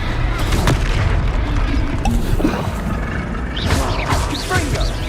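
A Confringo fire spell from Hogwarts Legacy explodes in a series of heavy, booming blasts over a dense rumbling game soundscape, with a few sharper cracks.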